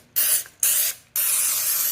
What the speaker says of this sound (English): spray that with a little bit of cooking spray